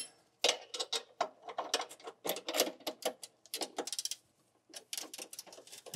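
A 17 mm wrench ratchets and clicks in quick, uneven bursts while loosening the lower bushing nuts on a car's coilover control arm, close and fairly quiet, with no talk.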